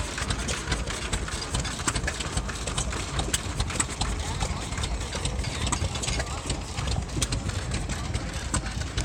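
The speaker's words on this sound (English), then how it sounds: "Here's an engine that's for sale." An antique Galloway stationary engine at an Arizona show, idling with a steady, rapid mechanical chuffing and clatter that stays close and constant throughout, with no voices over it.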